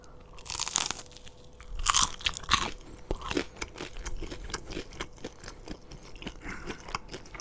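Crunchy McDonald's chicken is bitten and chewed up close, starting with a few loud brittle crunches and then settling into a steady run of crackly chewing bites.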